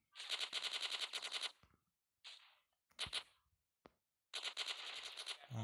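Submachine gun bursts in GTA San Andreas, rapid repeated automatic fire in several long and short strings with brief pauses between, loud and close.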